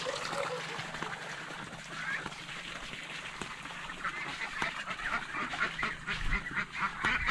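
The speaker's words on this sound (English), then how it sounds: "there's a little duck house here" Ducks quack and honk around a small duck house set over a fish pond in Laos, a steady run of fairly quiet calls with voices talking at times.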